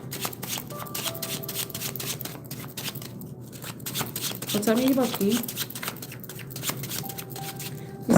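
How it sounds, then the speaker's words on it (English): Tarot cards being shuffled with quick papery riffles and flutters, fairly close, while a person talks over it throughout. "These cards are so difficult to shuffle."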